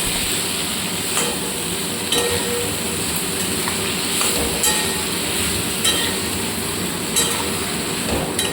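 Vegetable stems frying with mustard paste in a pan, a loud continuous sizzling hiss with faint periodic clicks, close and steady, no voices.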